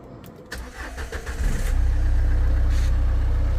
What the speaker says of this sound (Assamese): ইঞ্জিনৰ চাউণ্ড শুনক